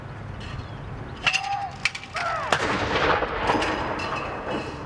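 Guns fire a salute for Prince Philip, with several loud booming reports spread over a few seconds, along with mechanical clanks and ratcheting from the gun crew.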